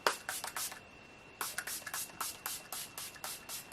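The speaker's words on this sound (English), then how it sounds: "It's the Pixie Glow Mist, and this obviously is like a setting spray but very glowing one" Pixie Glow Mist setting spray misted over a face in a run of short, close hissing pumps, a quick cluster, a brief pause, then about eight more bursts in steady rhythm; no talking.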